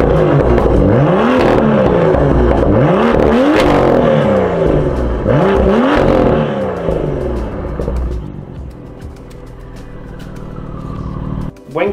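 A BMW M2's exhaust rises and falls through several loud, repeated revs, the engine note sweeping up and down strongly before easing to a lower idle-like drone near the end.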